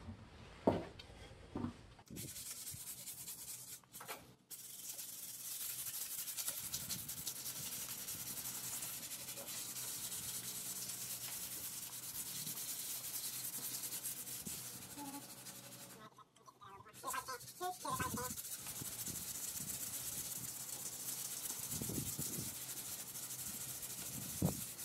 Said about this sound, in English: we'll put it on the table over there and we'll sand this down, make it nice and pretty and level